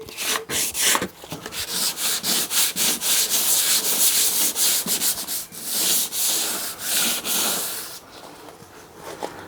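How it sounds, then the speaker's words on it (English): Gelcoat on a 1980 Mayland fishing boat is hand sanded with 600 grit sandpaper in close, loud, rhythmic back-and-forth rasping strokes that ease off near the end. "So I'm just going to use a 600 grit. That's all it really needs."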